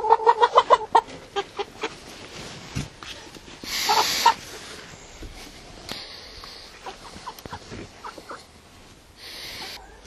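Hens being let out of their coop cluck in a quick burst of sharp calls at the start, then sparse clucks and rustling carry on nearby.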